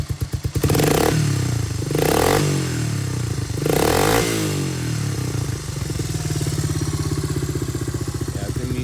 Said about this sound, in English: This Bassani exhaust is mean.